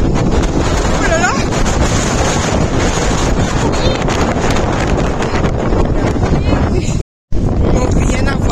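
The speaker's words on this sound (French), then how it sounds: "Le vent, il est super fort." Strong, cold wind roars into the microphone outdoors beside the Loire river, a loud continuous buffeting that fills the whole clip with only a brief dropout near the end.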